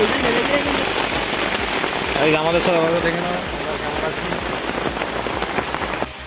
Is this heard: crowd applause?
no